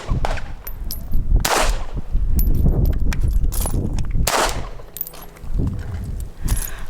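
.380 pistol fired at a range, several loud sharp gunshots spaced unevenly over the stretch, each with a short echoing tail, with no talk.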